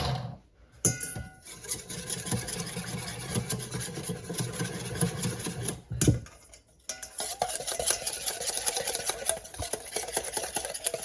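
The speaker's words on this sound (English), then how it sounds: "And we're gonna whisk this together." Pad Thai paste whisked into a salad dressing in a bowl, a steady scraping and rattling whir close up, broken by a couple of brief pauses.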